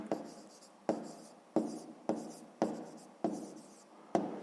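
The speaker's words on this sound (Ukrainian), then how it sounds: "записуємо тоді відповідь" A pen scratches out a handwritten math answer on paper in a run of about eight quick, crisp strokes at a steady rhythm, close and quiet with no talking.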